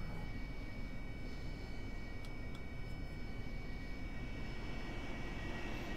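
An aircraft taxiing out toward runway 03 left in the DCS flight simulator, an even, constant engine roar throughout with a couple of faint ticks midway and no voices.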